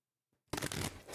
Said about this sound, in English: Let's get these shuffled.